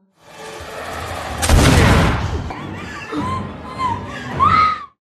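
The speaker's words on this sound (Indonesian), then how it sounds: "Roxy secara perlahan meraih shotgun tersebut dan langsung menembak ke arah Joe" A shotgun blast in an action film fight, a loud broadband boom about a second and a half in, followed by rumbling aftermath and scattered film sound effects and voices.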